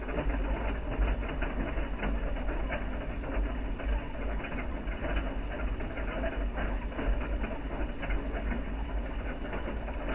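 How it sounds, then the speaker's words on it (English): Slowed-down engine sound of a Ford GT, played back in slow motion: a steady, low, droning mechanical rumble with a continuous muffled, churning texture throughout, no voices. "the sound you're hearing is that car top left in slow motion"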